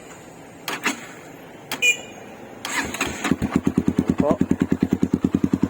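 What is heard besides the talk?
Honda XR200 motorcycle with GP Creed open pipe exhaust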